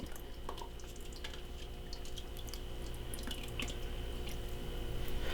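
Liquid is poured into an Instant Pot over pasta and meatballs, a steady trickling and splashing that grows slightly louder as it goes, close by with no talking.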